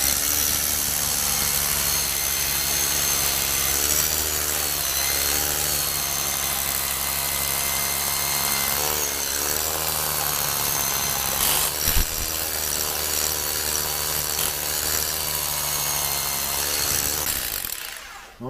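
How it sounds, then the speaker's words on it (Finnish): Cheap rotary hammer drill pounding rebar into frozen ground for a backyard ice rink, a loud continuous rattling hammer with motor whine, steady for most of the stretch before stopping at the end. "Sitten joku halvin poravasara, tämäkin riittää tähän hommaan ihan täysin."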